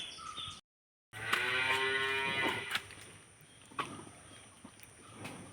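A cow lets out a long, deep moo close by after a brief silence, followed by quieter rustling and shuffling.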